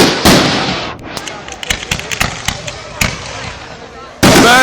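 Fireworks bursting at the Nowra Show, an agricultural show, with a loud close blast at the start, a run of sharp crackling pops through the middle and another heavy boom near the end, over steady crowd noise.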